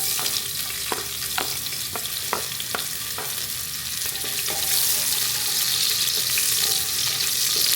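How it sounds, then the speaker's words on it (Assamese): Onions frying in hot oil for vegetable pulao, a steady broadband sizzle that swells louder in the second half, with several sharp stirring or scraping clicks early on. "তো তেল গৰম হৈ গ'ল, এতিয়া দিম ইয়াতে পিঁয়াজ।"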